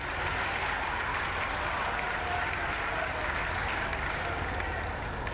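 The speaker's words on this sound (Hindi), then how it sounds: "जोरदार तालियां।" Loud, sustained applause from a crowd at a college ceremony honouring a librarian in Gorakhpur, dense steady clapping throughout with no pauses.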